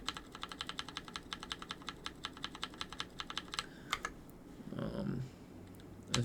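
Rapid, even clicks from keys pressed on an RK61 mechanical keyboard, a 60% board, typed close to the microphone for several seconds, then a pause and a brief muffled rustle near the end.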